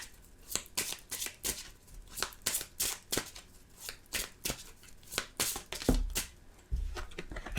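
Tarot cards are shuffled and handled in rapid, irregular bursts of crisp riffling and slapping, close and fairly quiet, with brief pauses between flurries.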